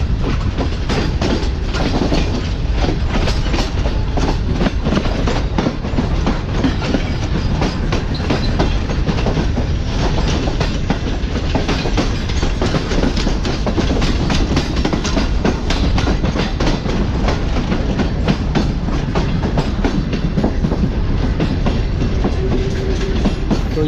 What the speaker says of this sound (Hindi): ये फाइनली ट्रेन मेन लाइन पर आ चुकी है और अब ट्रेन जो है वो दौड़ेगी लाहौर के लिए।